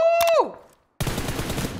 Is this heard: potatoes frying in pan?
no